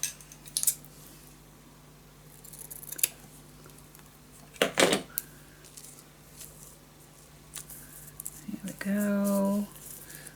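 Scissors snip paper a few times, sharp and close, for a Halloween pop-up scrapbook mini album, while a voice talks over the scattered cuts.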